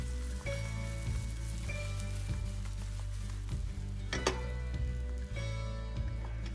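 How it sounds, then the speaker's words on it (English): Wheat gluten pieces sauté in hot canola oil for a Chinese vegetarian roasted bran dish, a soft, steady sizzle with faint crackles and a few stirring scrapes, heard under a sustained musical tone and no talk. "once the oil is heated, we're going to saute the wheat gluten"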